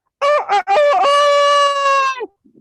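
A rooster crows loudly and close by: a couple of short clucking bursts, then one long, drawn-out crow that fades out.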